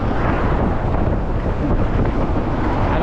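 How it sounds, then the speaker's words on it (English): Strong wind buffeting the microphone while inline skating across the Golden Gate Bridge in San Francisco, a loud continuous low roar with no break. "and also the wind"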